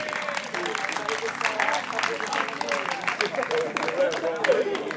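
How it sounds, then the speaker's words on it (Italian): Audience applause at a tournament award ceremony, a steady wash of many hands clapping throughout, with a voice talking over it. "Facciamo ancora un grande applauso a Emanuele."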